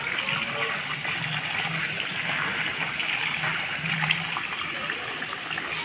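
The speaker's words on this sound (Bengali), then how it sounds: "এই যে এইভাবে মামি এই যে কচু শাকগুলো সব সাফ করছে" Taro greens being washed in water by an aunt in a village setting, a steady splashing and trickling wash that runs continuously at moderate level.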